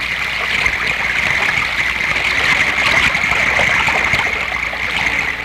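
River rapids rush and churn in a constant, loud wash of water near a canoe, steady throughout with no voices.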